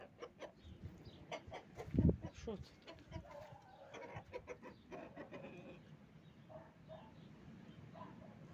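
A hen clucks close by in short, repeated bursts with a louder squawk, while a person talks quietly nearby.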